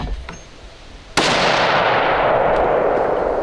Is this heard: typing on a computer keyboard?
no